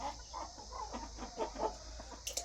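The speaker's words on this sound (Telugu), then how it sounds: "ఇందులో వచ్చేసి భీమవరం పెట్టలు ఒక రెండో మూడో ఉన్నాయి ఫ్రెండ్స్ భీమవరం పుంజు ఇది" Hens and a Bhimavaram rooster cluck in short, soft bursts close by, with a brief sharper call near the end over a low steady background hum.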